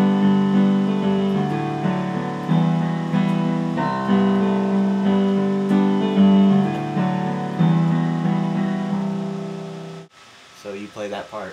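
An instrumental guitar solo section from a song plays continuously, a dense sustained melodic line over steady accompaniment, loud and close, cutting off near the end as a voice starts to speak.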